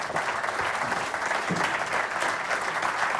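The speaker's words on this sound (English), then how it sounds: "please give our speakers a huge round of applause" An audience at a conference session gives its speakers a round of applause, a steady dense wash of clapping heard from the room with no voices on top.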